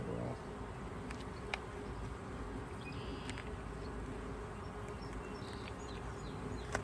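Honey bees buzz around an open hive during a beekeeping session, a faint, steady, low drone that holds throughout, with a few soft clicks and bumps from the hive work and no talk over it.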